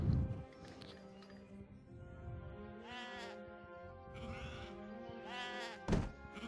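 Sheep bleat repeatedly in Age of Empires 3, several wavering calls spread over steady game ambience, with a thud near the start and another near the end.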